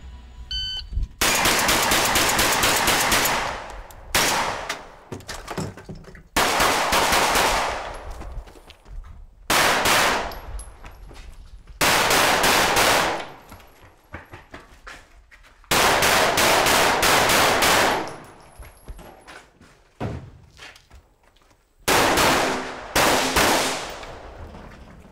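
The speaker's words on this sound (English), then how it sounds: "Got a little bit of shotgun going on." During a shooting competition stage, loud, close bursts of gunfire including shotgun blasts arrive in repeated volleys, each rapid string of shots separated by short pauses.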